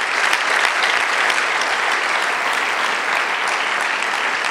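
A church congregation applauding together, a dense sustained burst of clapping from many hands filling the room at steady loudness throughout.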